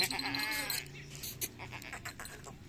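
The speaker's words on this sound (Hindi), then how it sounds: "ये बकरी है और ये साथ में बच्चे हैं" Goat bleating among its young kids at a farm, with repeated wavering bleats in the first second, then softer bleats and scattered rustling and knocking nearby.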